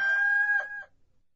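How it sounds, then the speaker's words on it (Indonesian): A rooster gives a single loud, close crow, a long sustained call that breaks near its end and then stops, followed by quiet. "ketika itu berkokoklah ayam"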